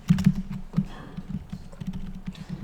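Quick bursts of close, clicky keystrokes on a computer keyboard, a short run of typing with uneven rhythm and no talk.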